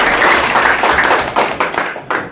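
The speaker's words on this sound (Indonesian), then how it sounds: "Sekali lagi tepuk tangan buat" An audience at a farm extension centre launch event in Cirebon, Indonesia, breaks into loud, dense clapping that holds for about two seconds, then thins out into a few scattered claps.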